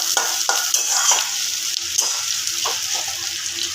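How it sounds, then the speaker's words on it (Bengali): Onions frying in a pan give a loud, bright, continuous sizzle, punctuated by repeated spoon scrapes and stirring clicks. "পেঁয়াজটাকে একদম কম আছে ভাজতে দিলাম"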